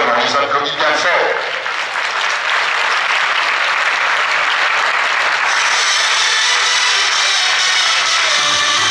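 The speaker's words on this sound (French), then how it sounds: "On les applaudit bien fort." Loud, sustained audience applause fills a sports awards ceremony honouring junior kata karate champions in Châtillon-sur-Seine, a dense steady wash of clapping that carries on without a break.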